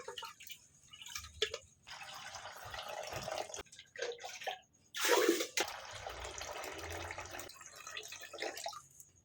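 Water splashing and dripping as rice is rinsed in a pot by hand, a steady wet sloshing with a louder pour or splash in the middle, close up with no talk.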